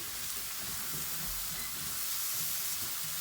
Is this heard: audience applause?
no